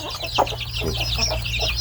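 Thai native chickens, a mix of young hens and roosters fed in the morning, cluck and call in a steady overlapping chatter, with a few louder squawks standing out over a constant low hum.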